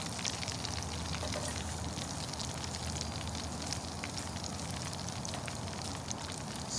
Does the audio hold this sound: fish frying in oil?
yes